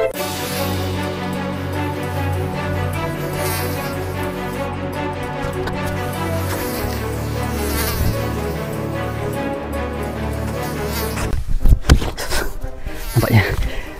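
Mosquitoes whine steadily around an oil palm plantation while fishing, a thin insect buzz filling the air throughout, with some faint handling rustle near the end.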